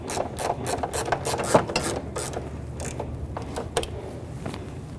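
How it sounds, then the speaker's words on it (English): A bolt being snugged down on the rear shock of a 2003-2008 Honda Pilot during a CV axle replacement, a quick run of close ratcheting clicks followed by a few slower clicks and light metallic rubbing. "Snug the bolt down."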